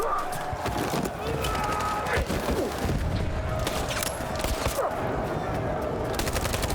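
Gunfire in Detroit: Become Human during an armed confrontation: rapid, sharp shots crackle in quick bursts over a dense, steady background of action noise, with a voice talking at times.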